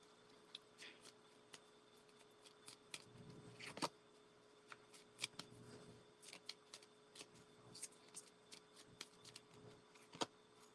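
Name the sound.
tarot cards being shuffled and pulled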